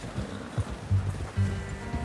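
Horse hooves clip-clop at a steady walking pace in Red Dead Redemption 2, several soft, close thuds on the ground with a low rustle of tack underneath.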